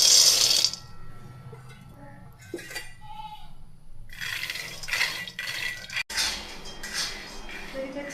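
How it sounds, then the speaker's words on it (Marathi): Peanuts dry-roasting in a hot kadai, with a spoon scraping and stirring so the nuts rattle and clink against the metal pan in uneven bursts, loud at the start and then steadier. "तर आपण शेंगदाणे भाजून घेऊ।"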